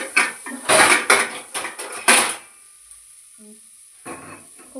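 A metal pressure cooker is picked up and handled, its lid and body clanking loudly in a quick cluster of knocks, then a pause before a softer clatter.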